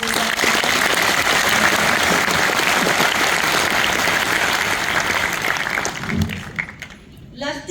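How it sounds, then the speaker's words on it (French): Loud, sustained applause from an audience at a World Tourism and Crafts Day event in Antananarivo, Madagascar, honouring artisans, a dense clapping wash that fades out near the end. "Un grand applaudissement s'il vous plaît pour les artisans."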